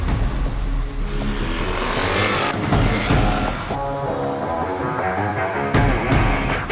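A Yamaha Aerox 155 scooter runs at full throttle on the Sentul circuit, its engine droning loud and close with shifting pitch and brief surges as it accelerates.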